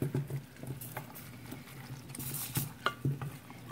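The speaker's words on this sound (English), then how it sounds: "I'm going to go ahead at this point and add my okra in here" Okra going into a simmering pot of Ghanaian okro soup and being stirred: soft scraping and stirring over a low bubbling sizzle, with a few light clinks of utensil against the pot, close and fairly quiet.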